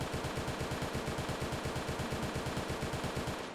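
Gunfire from the standard, unmodified BPR-28 rifle in the video game One Armed Robber, fired in a recoil test: a steady, evenly spaced string of loud, punchy shots at a slow rate, continuous for the whole stretch with no talking.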